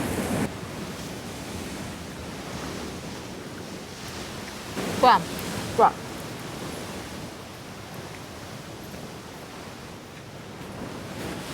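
Sea waves wash onto a shore in a continuous soft, hissing roar, with a couple of brief sharp sounds cutting through the steady surf.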